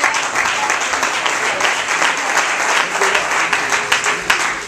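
Dense, sustained audience applause at a gospel church performance, loud and continuous throughout with crowd noise mixed in.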